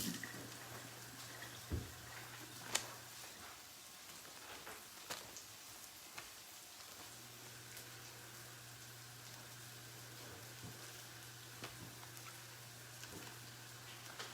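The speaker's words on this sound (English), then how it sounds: "we'll give it a quick little rinse" Lettuce being rinsed under a running tap, a low steady stream of water with faint splashes and a few sharp knocks, quiet and continuous throughout.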